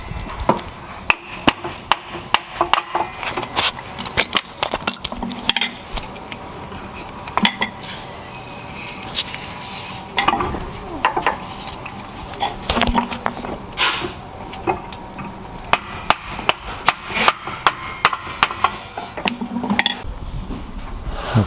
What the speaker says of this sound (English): just give it a few good whacks and I should be able to get in